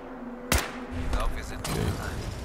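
Gunshots in Fallout 4: a sharp loud shot followed by another report about a second later, set against steady game ambience and someone talking.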